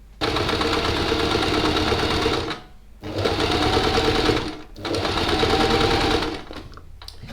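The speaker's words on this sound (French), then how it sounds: "on va venir du coup piquer à 1 cm du bord tout autour" A sewing machine stitches fabric 1 cm from the edge in three loud, close, steady whirring runs, each separated by a short pause.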